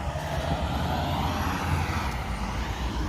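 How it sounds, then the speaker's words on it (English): A Kroger delivery truck pulls in early on a morning, its engine a loud, steady low rumble that holds unbroken throughout. "The Kroger truck pulling in behind me, being loud."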